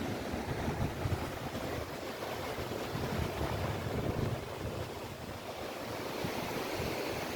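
Ocean waves wash continuously along the shore at the sea, a steady, fairly soft roar of surf mixed with some wind noise on the microphone and no voices.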